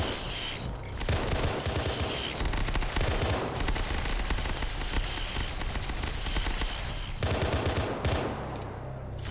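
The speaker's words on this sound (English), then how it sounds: "We got more units coming into the gunfire." Dense, continuous gunfire and automatic weapon bursts in a Halo multiplayer match, loud and sustained with brief lulls and a few sharp high-pitched energy shots near the end.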